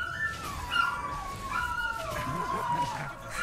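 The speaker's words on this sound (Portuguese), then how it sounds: "Corta essa parte do cachorro chorando aí" A dog whines and whimpers in a rising and falling high cry that repeats and wavers over a few seconds, close by, with faint background noise and no speech.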